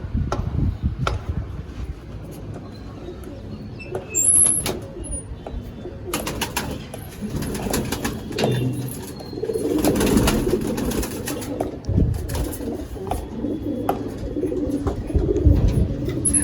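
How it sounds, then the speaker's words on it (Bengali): Rampuri pigeons of an old bloodline coo close by in a series of low, throaty calls, with intermittent rustling and clattering from the loft around them. "খুব ছটপটে খুব ছটপটে পায়রা।"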